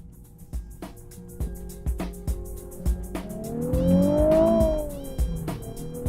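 A Nissan 370Z Nismo with shorter gearing accelerates hard, its engine note climbing in pitch to a loud rev peak amid repeated thumps and road noise, then easing off.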